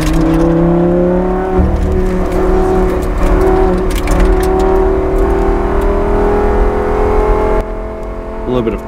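A Lamborghini Gallardo GT race car accelerates hard on a track with a loud, sustained engine note that climbs steadily and drops near the end. Someone talks over the engine throughout.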